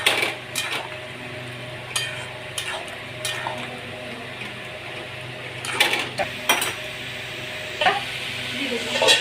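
A spoon stirs okra and fish curry with poppy seed paste in a metal pan, making repeated clinks and scrapes at irregular intervals over a quiet simmer close by.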